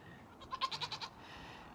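A mini Nubian goat bleats in a quick run of about five wavering, nasal calls at a small ranch around feeding time, fairly close against quiet background hiss.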